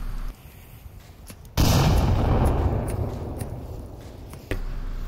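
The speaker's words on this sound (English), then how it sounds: "The early shots are coming out from Cleanest on the second floor here." Gunshots in the VR shooter Onward, with a loud blast that cuts in sharply and rumbles away, followed by another abrupt report near the end over quieter background sounds.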